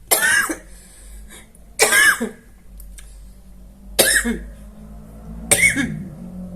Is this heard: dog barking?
no